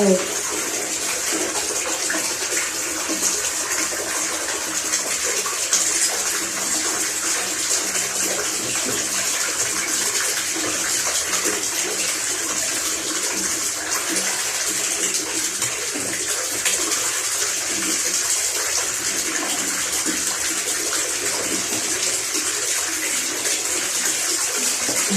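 Steady, continuous water running, as from a tap or hose filling a tub while Nami the dog is being bathed after laundry, a broad even rush lasting throughout with no clear voices.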